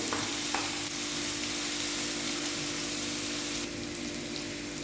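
Capsicum and green chillies frying in a pan, a dense, steady hiss of sizzling oil that stays loud and close with only faint stirring touches.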